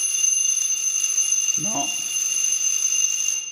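An electrician's continuity tester buzzer rings steadily and shrilly throughout, with a brief spoken word from a man in the middle of it.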